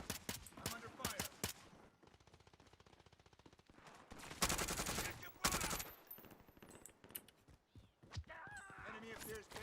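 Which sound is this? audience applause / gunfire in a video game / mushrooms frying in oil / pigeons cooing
gunfire in a video game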